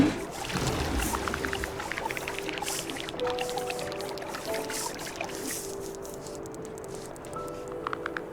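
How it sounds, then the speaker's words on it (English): In the video game Terra Nil, water fills dry riverbeds with a continuous trickling, gurgling flow. Gentle tonal hums drift over the running water throughout, with no talking. "So I figure if we just start filling up these dry riverbeds, these river cutouts, that's going to get our currency up."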